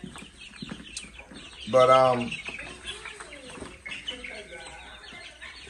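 Eighteen baby chicks crowded in a small brooder with pine shavings peep and chirp continuously, with one loud burst of calls in the middle and a person speaking briefly.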